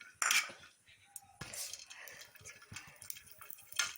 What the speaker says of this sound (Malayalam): കശുവണ്ടി ഇട്ട് കൊടുക്കുക കേട്ടോ